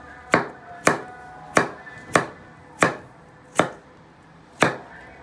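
A knife chops potatoes on a cutting board in a home kitchen, seven crisp separate thuds at a slow, slightly uneven pace, close and clear with no talk.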